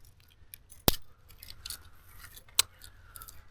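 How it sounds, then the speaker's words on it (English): Two sharp, crisp snips from the small scissors of a Victorinox Camper Swiss Army knife, spaced apart, close and clear over quiet background handling sounds. "it has a pair of scissors"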